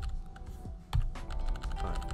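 Keys are pressed repeatedly on a computer keyboard during Photoshop design work, an irregular run of close clicks and taps over a low background rumble.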